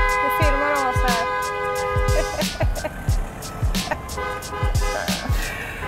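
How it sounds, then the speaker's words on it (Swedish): Several car horns honk close by in busy street traffic, some long steady blasts overlapping and others in short repeated toots, over loud road noise with knocks and thumps. "Vad var det med tutningarna där?"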